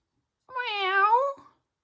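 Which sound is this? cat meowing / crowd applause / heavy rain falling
cat meowing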